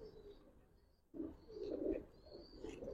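A pair of Giribaz pigeons, a big-sized green-toned pair, coo softly nearby in a loft, repeated low rolling murmurs that swell and fade after a brief pause, with no one speaking.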